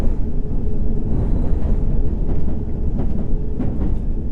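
A London Underground Circle Line C stock train running in the World of Subways game, a loud close rumble with steady wheel noise and faint rhythmic clicks of rail joints throughout.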